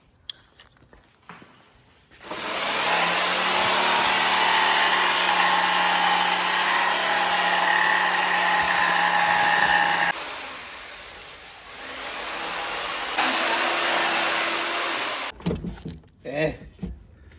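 A car amp rack panel for a Camaro being trimmed with a power tool: a loud, sustained whining buzz running in long stretches, pausing briefly and restarting, with short clatters at the start and end.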